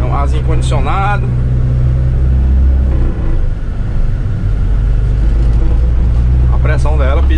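A Mercedes-Benz dump truck's diesel engine rumbles loudly and pushes forward as the accelerator is pressed inside the cab, a heavy low drone that rises steadily, while someone talks over it at the start and end.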